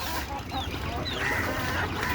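Hens in a backyard flock, some of them blind, cluck and murmur continuously at close range, with a few higher squawks mixed into the dense chatter.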